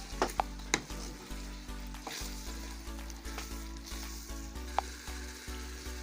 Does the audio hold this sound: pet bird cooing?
no